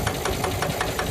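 An air-cooled single-cylinder German tractor engine running close by, a loud steady knocking putter with regular evenly spaced beats, heard alone without talk.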